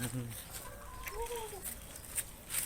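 Chickens cluck on a farm, a few short rising calls over soft background voices and outdoor noise.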